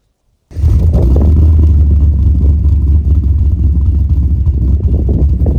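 A Holden VS SS Commodore's 5-litre V8 starts up abruptly and holds a loud, close, rumbling idle with light revving, a steady deep throb that carries on alone to the end.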